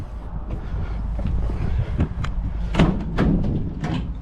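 Doors of a Vauxhall Movano van being worked open and shut, giving a few knocks and sliding clunks around the middle and end, with wind rumble on the microphone throughout.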